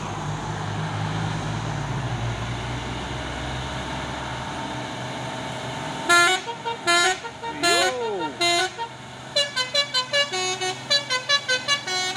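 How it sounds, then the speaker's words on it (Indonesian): A Hino Euro 4 box truck goes by on a busy road amid steady traffic rumble, while a run of loud, rhythmic horn toots and honks repeats over several seconds. "Masuk lagi nih truk box Hino Jember Euro 4"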